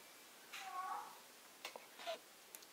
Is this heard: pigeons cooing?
no